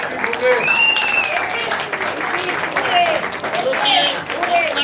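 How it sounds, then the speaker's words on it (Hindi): Audience applause and cheering fill the hall after a dance drama performance about Krishna and Meera, loud, dense and sustained throughout, with voices calling out over the clapping. "तालियां बजनी देनी चाहिए।"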